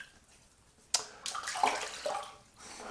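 Water from a tap splashes and drips onto a wet shaving brush during a wet shave, with a sudden onset and a few close, bright spatters that then fade to a soft trickle.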